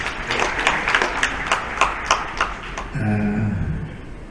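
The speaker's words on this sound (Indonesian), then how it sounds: "Tepuk tangan sekali lagi" Scattered hands clap in a loose, regular rhythm at a breast cancer awareness event, distinct individual claps spaced about a third of a second apart, before the clapping fades and a voice takes over.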